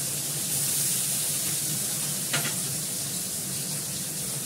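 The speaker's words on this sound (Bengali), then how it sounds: "মাছটা আমি হালকা ফুলকা করবো, মাছটাকে ভেজে নিই" Fish frying in oil in a pan in a home kitchen, a steady close sizzle and crackle that runs unbroken throughout, with one brief louder spit partway through.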